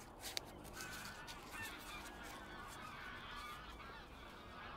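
A large flock of geese flies overhead near lakes, with many faint, overlapping honks spread steadily across the clip above a low outdoor rumble.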